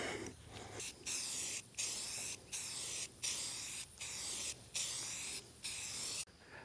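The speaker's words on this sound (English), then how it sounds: "let's go ahead and paint this up" Spray paint hissing in repeated bursts over fabricated metal parts cut on a CNC plasma cutter, roughly eight steady passes of about half a second each, separated by brief pauses, loud and close with no talk.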